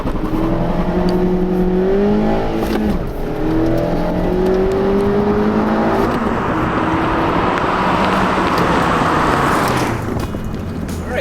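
A 2018 Mazda Miata Club launches hard from a standstill at high altitude, its engine revving loud and close and climbing through rising pitch sweeps with short dips at each gearshift before settling into a steady roar.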